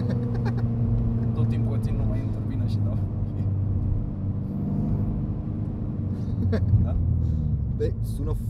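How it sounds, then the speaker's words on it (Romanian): Kia Pro Ceed GT engine running with a steady low rumble throughout, people talking over it from inside the car. "sună foarte bine mașina."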